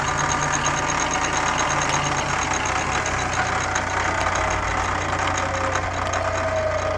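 An engine idles at about 500 RPM during an ignition coil test, a steady low rumble with a faint knocking pulse and a thin high whine that holds throughout, close by and with no talking.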